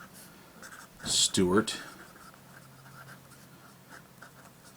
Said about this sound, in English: let's put nib to paper and see how this baby writes.